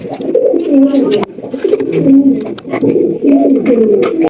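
Blue Satinette pigeons cooing close by in repeated, throaty rolling phrases with brief pauses between them.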